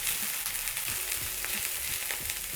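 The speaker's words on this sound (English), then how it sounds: "So my oil is getting hot. I'm going to add onions." Steady sizzling of onions frying in hot oil for chips masala, a continuous crackling hiss with occasional stirring scrapes, close and fairly loud.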